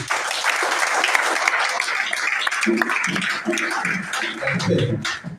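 Congregation in a church breaks into loud, sustained applause with cheering voices mixed in, dense clapping throughout and a few louder vocal bursts near the end.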